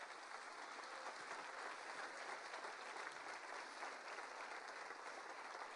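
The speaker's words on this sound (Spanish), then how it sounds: "Denle un aplauso al Señor." A church congregation claps during a sermon, a faint, continuous wash of applause that stays steady and distant throughout.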